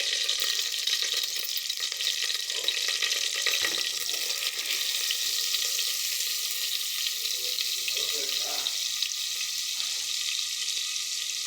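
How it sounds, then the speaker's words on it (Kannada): Mustard seeds sizzle in hot oil for a South Indian tomato bath, a steady close crackling hiss running the whole time, with a few faint clinks and stirring sounds partway through. "ಎಣ್ಣೆ ಕಾದ ಮೇಲೆ ಸಾಸಿವೆ ಹಾಕಿಟ್ಟು"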